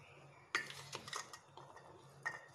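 Chana chaat being mixed with tamarind chutney in a bowl, heard as a spoon scraping and clinking against the bowl in a few short bursts, close by but quiet, with no voices.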